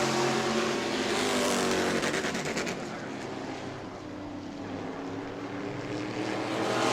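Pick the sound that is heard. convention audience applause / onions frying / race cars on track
race cars on track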